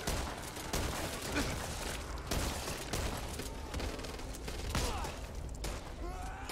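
Dense bursts of automatic machine gun fire crackle through the Back 4 Blood zombie shooter, rapid overlapping shots with mechanical clatter, fairly quiet in the mix.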